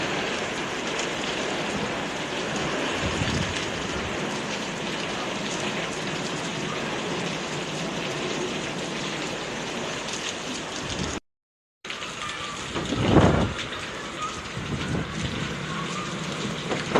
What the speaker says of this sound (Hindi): बारिश देखें कितनी तेज हो रही थी।